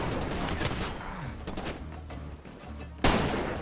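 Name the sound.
explosion in the video game Far Cry 2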